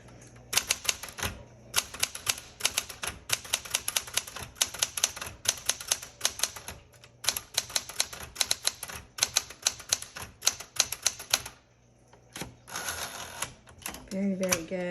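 Rapid bursts of key strikes clatter from a 1973 Smith Corona Galaxie Twelve typewriter, loud and close, broken by short pauses and a carriage-return ding and slide near the end.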